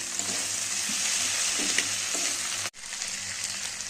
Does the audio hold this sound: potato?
yes